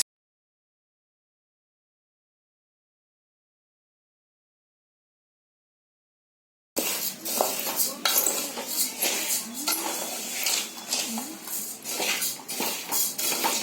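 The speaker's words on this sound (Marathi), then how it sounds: "भाजताना आहे ना सारखे ढवळत राहायचे" Rice being stirred while it dry-roasts in a pan as part of Diwali snack preparation. After several seconds of silence, a steady run of scraping, shuffling and clinking from the utensil against the pan begins.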